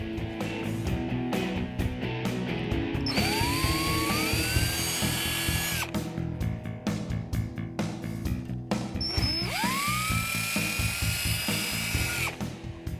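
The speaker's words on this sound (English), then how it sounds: "we're just going to drill 4 pilot holes for the installation" A power drill bores pilot holes into a carbon fiber front chin spoiler on a 2013-2014 Ford Focus ST, two loud sustained whining bursts of a few seconds each with a rising spin-up pitch, set between quieter handling noises.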